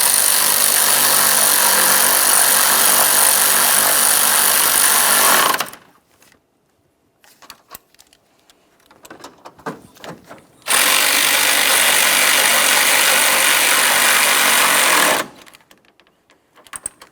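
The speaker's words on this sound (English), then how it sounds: "They're all started in, let's snug them up." A power tool runs in two long, loud, steady whirring bursts while snugging up the 10mm mounting bolts on an AC condenser of a 2012-2015 Honda Civic 1.8L L4, with faint clicks and handling noises between.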